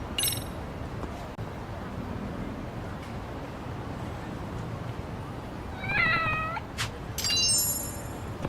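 A cat in the Lost Judgment video game meows twice, a short cry followed by a longer plaintive one, over a low ambient game background with faint wind-like noise.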